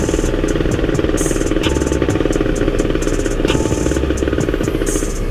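Kawasaki Ninja two-stroke motorcycle fitted with a PWK 33 carburetor, its engine running steadily close by with a buzzing, rattling tone and no voices.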